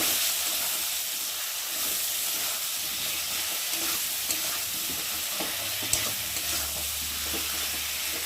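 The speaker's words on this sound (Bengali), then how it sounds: "দিয়ে মশলাটা ভালো করে কষিয়ে নেব।" Ginger, cumin and garlic pastes with chopped tomato stir-frying in a pan for a lentil fritter curry, a dense even sizzle with occasional spatula knocks and a low hum, close, with no speech.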